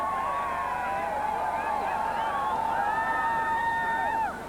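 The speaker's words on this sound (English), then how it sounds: "this American crowd really whooping him down through straw pile" Spectators at an American World Cup ski race in Aspen whoop and cheer as a racer comes down the course, a sustained mass of distant shouts and calls that fades slightly at the end.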